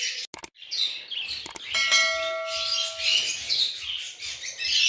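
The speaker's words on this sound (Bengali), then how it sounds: "আমাদের বার্ডস ক্যানভাসের যে বাজরিগার পাখিগুলো আছে সেগুলোকে আজকে আমি গোসলের জন্য পানি দেব" Pet budgerigars chirp busily in a bird enclosure at bathing time, a dense, bright twittering that runs almost continuously and close by, with a brief ringing tone and a few clicks near the start.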